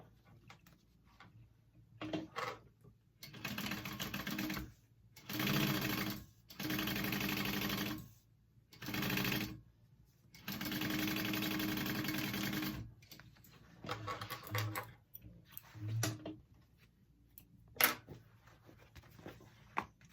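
Industrial sewing machine stitching fabric for a shoulder bag zipper, running in several loud bursts of steady whirring separated by short pauses, with light handling clicks between runs.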